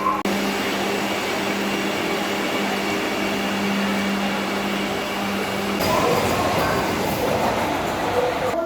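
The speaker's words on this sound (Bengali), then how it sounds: "এই ট্রেন ধরে আমরা যাব এখান থেকে আলিপ্পি থেকে ত্রিবান্ধম সেন্ট্রাল পর্যন্ত।" Steady mechanical rumble and hum of a train at a railway platform in Alleppey station, a continuous loud drone with a shift in texture partway through, no clear talk.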